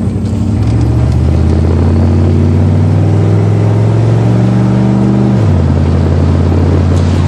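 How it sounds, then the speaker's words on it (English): A 1987 Pontiac Trans Am GTA with a TPI 350 V8 and custom exhaust pulls hard from inside the car, a loud, throaty drone climbing steadily in pitch before dropping as the gear changes. "Not sure if you can hear the exhaust, but it's sounds very throaty."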